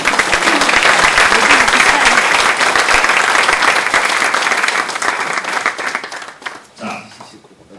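Loud, warm applause from a crowd at a Democratic United Party lawmakers' workshop for the candidates, dense clapping that gradually thins and fades out with a few stray claps at the end.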